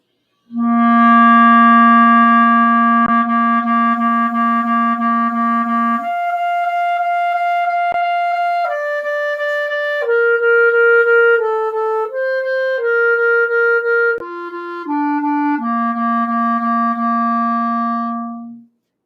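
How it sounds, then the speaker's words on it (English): A wind instrument plays an articulation warm-up exercise in tongued sixteenth notes, moving through a series of sustained pitches, loud and close with no other sounds. "now I'm going to tongue 16th notes rather than just playing the halves, quarters, and eighths that I just played."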